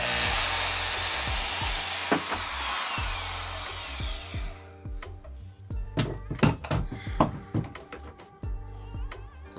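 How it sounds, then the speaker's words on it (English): A portaband saw cutting a blade part, with a steady high whine during the cut, then a run of sharp, uneven knocks and clatters as the piece is handled, close and moderately loud. "I'm just gonna use the portaband to cut on my line"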